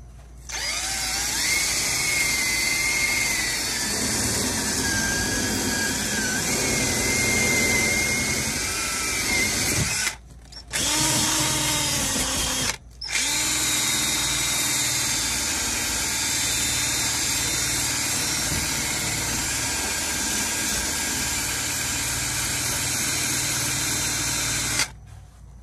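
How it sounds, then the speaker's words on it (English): A wire brush spun by a power drill grinds rust off a car body in a long, steady, loud whir, cutting out briefly twice around the middle. "I'm gonna sand the rust off right here"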